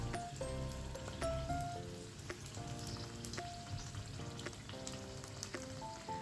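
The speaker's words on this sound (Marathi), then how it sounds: "पुरी सोडल्यानंतर त्याला झाऱ्याच्या साह्याने असं थोडंसं तेल टाकायचं म्हणजे ती चांगली फुगून वर येते" A puri frying in hot oil while oil is ladled over it with a slotted spoon, a soft bubbling sizzle alongside faint background music tones, quiet and close.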